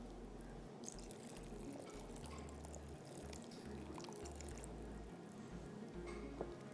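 Cornflour is poured into a boiling soup of vegetables, chicken and shrimp, giving a faint, steady liquid bubbling and pouring sound with soft drips, quiet and continuous, with no talking.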